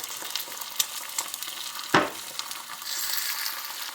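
Eggs cooked over easy sizzling in a skillet, a steady hissing fry with a few sharper crackles and pops, close and quiet, no voice.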